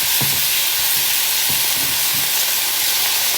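Semi-frozen steak seasoned with salt and pepper sizzles loudly in a hot pan, a steady broadband hiss with a few soft thuds and pops from pieces being moved.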